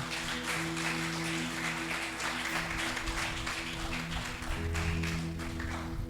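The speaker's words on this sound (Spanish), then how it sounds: "Démosle un aplauso al Rey de Gloria, vamos." Church congregation clapping together at a Sunday Resurrection service, a steady dense wash of applause lasting throughout, with sustained organ or keyboard tones underneath.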